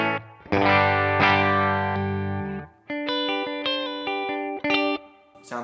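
An electric guitar played through a Kemper amp profile with gain added gives a distorted, saturated tone: a sustained chord first, then a series of shorter, choppier chords and notes with a slight chorus shimmer, loud and close with no talking.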